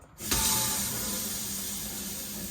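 A motorhome kitchen tap is switched on after a brief moment and water gushes steadily into a sink, a constant splashing hiss that continues to the end.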